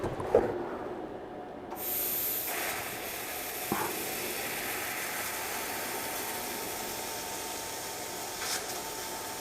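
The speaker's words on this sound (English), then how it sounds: "See how fast we can cut this thick of metal." An Xlaserlab X1pro laser cutter slices through thick metal in a garage shop with a steady hissing, sizzling spray that begins after a short click and continues evenly to the end, with a faint tap partway through.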